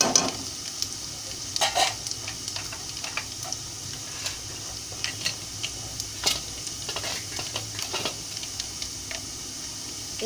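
Tempering spices frying in hot oil on a stove set low, for homemade tomato pickle: a steady close sizzle and crackle with scattered sharp pops and ticks throughout.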